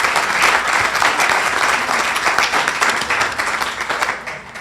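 Sustained applause from a conference audience for a healthcare panel, dense steady clapping throughout that tapers slightly at the end, with no talk over it.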